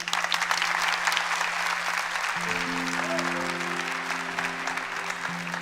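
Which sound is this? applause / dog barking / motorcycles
applause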